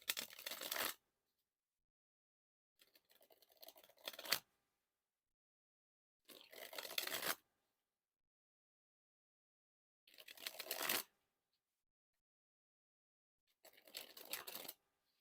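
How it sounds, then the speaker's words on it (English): A deck of playing cards is dribbled from hand to hand in five short riffling bursts separated by silent pauses, soft and close. "Now to dribble the cards."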